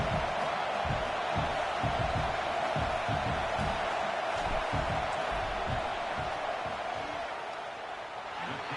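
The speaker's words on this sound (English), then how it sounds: "This crowd trying to do its part to get inside the kicker's head." A stadium crowd roars in the video game College Football 26 during a field goal attempt, a dense, steady wall of cheering and noise that eases slightly toward the end.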